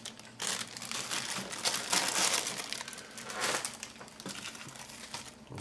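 Resealable plastic bags holding model tank kit sprues crinkle and rustle close up, a dense continuous crackling that swells and fades as the bags are handled, with no talking.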